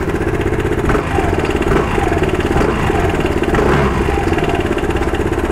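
A Royal Alloy Tigara Grande 250S scooter engine runs steadily up close, with repeated rises and falls in pitch as the throttle is blipped and the exhaust note swells.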